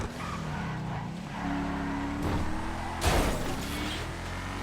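Enus Paragon S sports car driving in GTA Online, a steady engine drone with rising and shifting pitch and a brief louder burst near the end, no talk over it.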